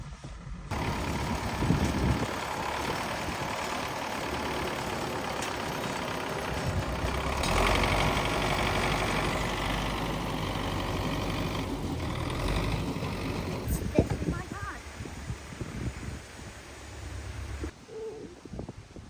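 A heavy tractor engine rumbles steadily at close range, its low drone swelling and easing over a long stretch with no talking.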